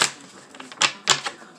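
A deck of tarot cards being shuffled up close, with quick papery riffs and a couple of louder slaps of cards, sounding alone with no talk.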